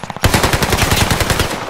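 Rapid automatic gunfire from a video game, a loud close burst of evenly spaced shots that follows a few quick single pops and carries on without a break.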